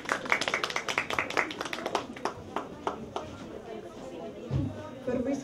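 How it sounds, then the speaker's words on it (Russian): An audience at a bookshop author event claps through the opening seconds, a dense patter of hands that thins out and fades, with faint murmuring and shuffling afterward. "Безусловно, под ваши аплодисменты,"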